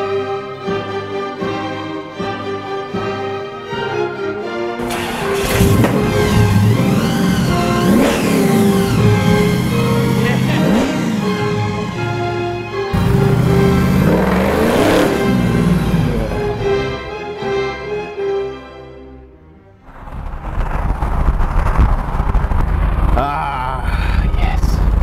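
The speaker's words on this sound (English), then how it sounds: "it is about a 501 cubic inch Ford big block, an 871 supercharger." Supercharged 501 cubic inch Ford big block V8 with an 871 supercharger in an American sedan, idling with a loping rumble, then revving hard twice in loud roaring bursts, dropping briefly before another rev.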